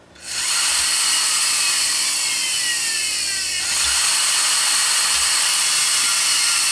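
A German PFAFF 332 sewing machine motor spins up from silence into a loud, steady whirring hum with a rising whine, running continuously like a small turbine.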